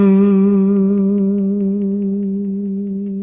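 One sustained musical note played alone, holding steady and slowly fading over about three seconds, with a gentle wavering in pitch.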